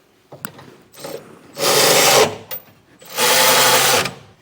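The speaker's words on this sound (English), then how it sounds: "Now we'll go through and tighten up and just snug down our center section hardware." A power impact tool with a 3/4 socket snugs down the center section bolts of a Curt underbed gooseneck hitch under a 2025 Chevrolet, giving two loud close-up bursts of whirring rattle, each about a second long, with light handling clicks between.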